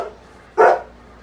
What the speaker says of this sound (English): Scarlett, you've got to stop barking though